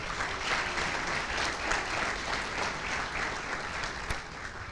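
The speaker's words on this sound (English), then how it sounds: "Let's have a round of applause for the 5 people who've already spoken" A conference audience applauds the earlier speakers at a programming event, steady dense clapping from a crowd heard at moderate distance throughout.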